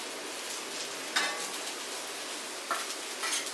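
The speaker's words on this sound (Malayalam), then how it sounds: "നന്നായിട്ടൊന്ന് ഇളക്കി കൊടുക്കുക" Okra and egg being stirred in a pan, with soft scraping and a couple of clinks of a utensil against the pan over a faint low sizzle, no talking.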